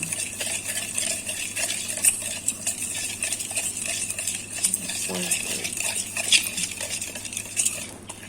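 A spoon scrapes and clinks against a container while a vegetable pickle mixture of chili, carrots and capsicum is stirred, a continuous close mixing sound with a steady background hum.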